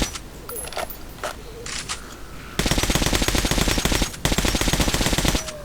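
Rapid automatic gunfire from a many-bullet gun in the video game Metro: Last Light, loud dense bursts after a quieter opening, with a short break before another sustained volley.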